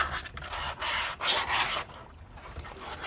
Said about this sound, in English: And I'm just working this sandpaper around.